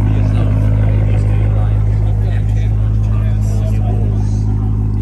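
A BMW M2 CS edition idles or rumbles close by at a car meet, a steady loud low engine drone with a faint crowd murmur behind it.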